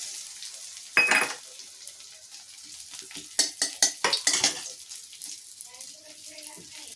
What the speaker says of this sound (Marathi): याच तुपात आपण उरलेला डिंक लगेच तळून घेऊया.